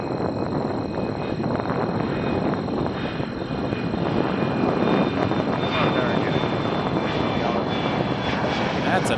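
Embraer 175 airliner engines roar steadily and loudly at Toronto Pearson Airport, a broad continuous rumble holding throughout with slight wind buffeting.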